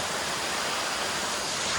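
Steady broadband rush of a small waterfall at Varavoor, near Erumapetty in Vadakkanchery, pouring continuously and close by with no voices over it.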